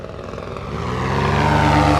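A nitro-powered RC helicopter engine buzzes in flight over a yard, its steady droning whine growing louder and rising slightly in pitch as it comes closer, with no voices.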